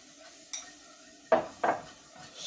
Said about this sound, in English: Alright, you're going to keep stirring here.